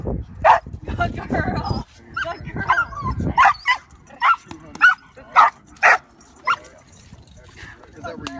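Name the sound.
dog barking on command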